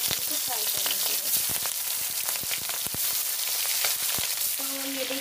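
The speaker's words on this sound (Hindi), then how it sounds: "तेल गर्म हो चुका है, हम मछली को फ्राई कर लेते हैं।" Fish frying in hot oil for a Bengali prawn malai curry, a steady dense crackle and sizzle with sharp pops and spits running throughout, close and fairly loud, with no voices.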